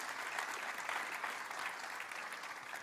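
Church congregation at a Sunday Spanish-language service applauding, steady crowd clapping that sounds somewhat distant and fairly faint, sustained for a few seconds.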